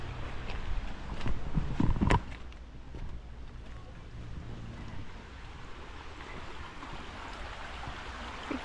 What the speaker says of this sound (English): Creek is just really pretty.